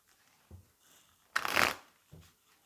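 A tarot deck is shuffled for a cross spread, with one loud, close papery riffle in the middle and a couple of soft card taps before and after it.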